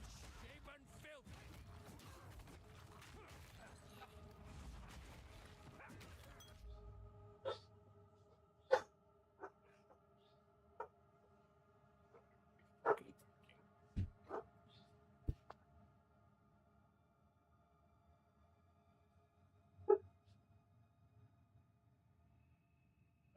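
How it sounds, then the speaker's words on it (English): Dogs barking indoors: a few sharp, separate barks spaced out over a quiet background, after a burst of louder noise at the start. "Knock off the barking."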